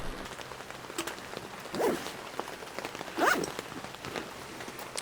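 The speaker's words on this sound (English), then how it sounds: "the rain is here" Rain falls on a camping hammock setup beside a truck, a steady soft patter with a few louder rustling bursts, no talking.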